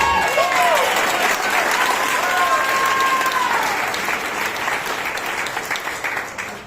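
A church congregation claps steadily and loudly for several seconds, a dense wash of applause that gradually thins and fades toward the end.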